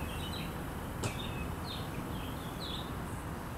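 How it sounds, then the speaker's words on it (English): Several birds chirp in short bursts in the morning in Savannah over a steady wash of background noise, with one brief knock partway through. "Hear the birds chirping"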